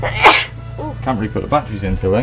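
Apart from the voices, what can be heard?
sneeze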